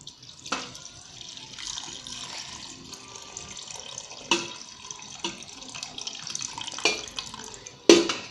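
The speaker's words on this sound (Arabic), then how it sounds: "ونضيفوا عليها ماء دافئ" Warm water is poured and dribbled into a bowl of dough mixture with olive oil, in uneven splashes and trickles broken by several sharp clinks of utensils against the bowl, close and moderately loud.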